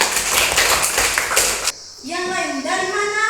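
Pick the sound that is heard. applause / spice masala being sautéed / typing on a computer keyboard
applause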